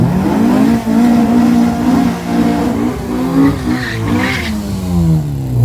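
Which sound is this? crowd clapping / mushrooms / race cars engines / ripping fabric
race cars engines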